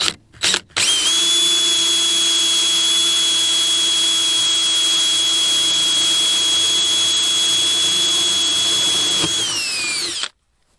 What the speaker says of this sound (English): I'm going to start with a pilot hole, go to my spade bit